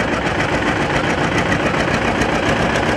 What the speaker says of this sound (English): Here we have a diesel John Deere R owned by Derek Almany.